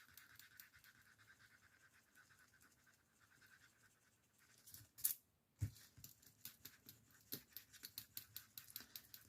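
An eraser rubbed over stamped paper while colouring a scrapbook piece, a quiet steady scratchy scrubbing first, then faster rhythmic strokes with soft taps, close and faint.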